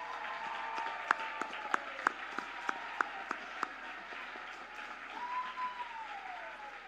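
Scattered applause rises at a college commencement as graduates clap for family and friends, a soft crowd bed with a handful of sharper claps standing out, fading, then a low sliding tone in the background.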